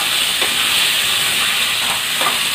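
Sliced mushrooms dropped into a hot pan of fried onions and chillies, a loud continuous sizzle and steamy hiss close by with faint scraping stirs, no talk.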